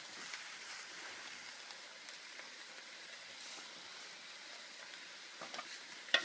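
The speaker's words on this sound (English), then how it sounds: "I'm going to saute this for about 5 to 10 minutes, mixing it around so the butter melts" Leeks sauté in melted butter in a full pot, giving a faint, even sizzle and crackle with a few light stirring knocks toward the end.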